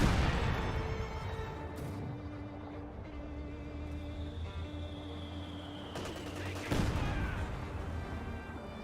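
MG34 machine gun bursts in a Company of Heroes 2 battle, heard at middle distance with other battlefield booms in a busy wartime soundscape. A faint voice talks over it.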